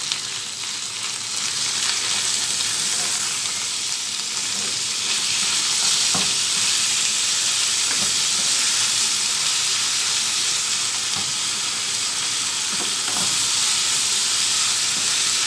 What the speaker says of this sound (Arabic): هجيب اللحمه وهنضيفها مع بعض ونقلبهم كويس